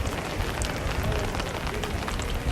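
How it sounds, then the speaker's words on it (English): Steady rain falls on a street in Belgium, a dense, continuous patter on hard surfaces, close and fairly loud with no voices. "really love the rain"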